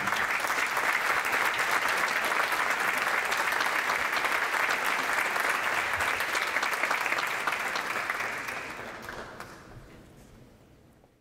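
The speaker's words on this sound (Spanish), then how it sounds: "Recibamos con un aplauso a Gaby Costello, a José Antonio Saife y a Luis Reinaldi" Audience applause at a tribute ceremony welcoming guests, a steady dense wash of many clapping hands that holds for about eight seconds and then tapers away to quiet.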